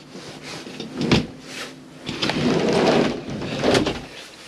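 A concertina washroom door in a Chausson C514 motorhome slides across and folds shut in a few rattling, shuffling movements, close and fairly loud, with no talking.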